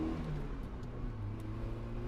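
A 115 horsepower V6 car with a manual transmission revs its engine, a steady muffled mid-pitched drone heard from inside the car, moderately loud, with no voices.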